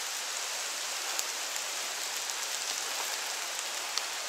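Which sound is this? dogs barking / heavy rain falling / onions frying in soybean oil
heavy rain falling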